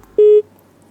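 A single short touch-tone dialing beep is heard on a telephone line, a clean steady tone lasting about a quarter second with quiet around it.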